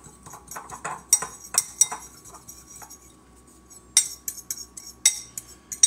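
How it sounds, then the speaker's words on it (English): A metal fork whisks a Cajun shrimp mixture in a bowl, giving bright, close clinks and scrapes in quick irregular bursts with short pauses between them. "I think we'll just go with a fork to whisk it up for now."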